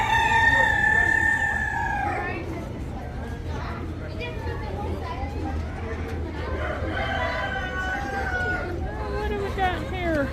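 A rooster crows in a garden, one loud, long, close cock-a-doodle-doo at the start followed by further crowing and clucking from nearby fowl, with people chatting over a steady low background hum.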